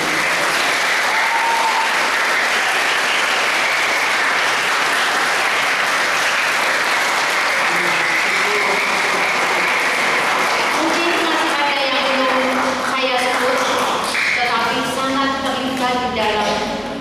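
Loud, sustained applause from a large congregation at a Catholic parish celebration in Pemalang fills the whole stretch, with some voices and cheers rising near the end.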